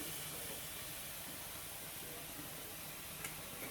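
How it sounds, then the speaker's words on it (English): Broccoli, cauliflower and carrots frying in olive oil give off a steady, even sizzling hiss that stays constant at moderate loudness, with no talking over it. "We're going to fry our vegetables."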